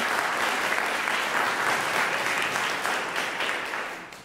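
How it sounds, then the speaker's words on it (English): Audience applause at a scholarship showcase recital, a full, steady clapping from a sizable crowd lasting about four seconds and fading gently at the close, with no speech during it. "You can clap if you want to, it's a long one."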